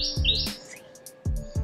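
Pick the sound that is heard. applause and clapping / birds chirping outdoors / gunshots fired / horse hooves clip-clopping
birds chirping outdoors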